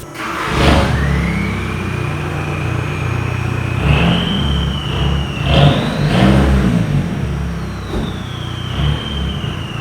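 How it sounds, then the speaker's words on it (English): A stock-exhaust diesel Volkswagen Jetta in eco mode revs several times beside a highway, the engine rising and falling in a steady whir. The exhaust note stays moderate and nearby, without any voices. "this is what it sounds like stock, eco mode"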